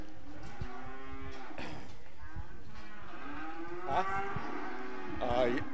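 Red brockle face heifers mooing in a pen at a cattle show and sale, several drawn-out low bellows overlapping one another, fairly close, with a faint crowd and announcer murmur underneath.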